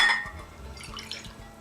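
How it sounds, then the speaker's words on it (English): Half a cup of water is poured into a bowl for an egg wash in a home kitchen, a short close liquid splash and trickle after a brief clink. "Add about a half a cup of water"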